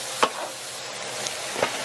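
Beef and onions for a New York style chopped cheese being stirred on a hot griddle, a steady soft sizzle broken by a few sharp scraping strokes of the spatula.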